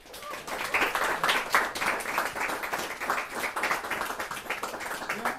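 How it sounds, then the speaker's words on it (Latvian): Audience applause at a Latgalian prose reading evening, a dense crackle of many hands clapping that swells quickly and holds steady for several seconds. "Es domāju, vēlreiz aplausi visiem."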